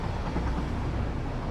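A freight train rolls through a factory-building video game world, a steady dense rumble with a faint rhythmic low pulse, continuous and even, with no voices.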